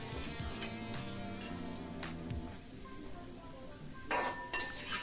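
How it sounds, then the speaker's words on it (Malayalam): Beef being stirred with masala in a pan over a medium flame, with spoon-on-pan clinks and scraping at an irregular pace, close and moderately loud, plus a brief sizzle near the end. "മസാല ഇറച്ചിയിൽ നല്ലതുപോലെ പിടിച്ചു വരുന്നിടം വരെ നമുക്ക് ഇളക്കി കൊടുക്കാം."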